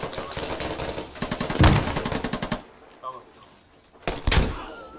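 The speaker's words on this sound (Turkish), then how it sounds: "Motoruna hep beraber sıkacağız" Gunfire aimed at a motorcycle in the tactical shooter game Squad: a rapid burst of automatic shots, followed by a quieter gap and a few heavy, loud bangs, with players talking over the action.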